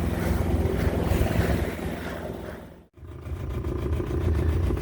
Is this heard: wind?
yes